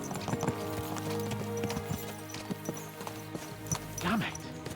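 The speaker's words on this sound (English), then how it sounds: "Let's really spur these horses on, eh?" Horses gallop in Kingdom Come Deliverance 2, a steady clip-clop of hooves running under game music, with a brief whinny near the end.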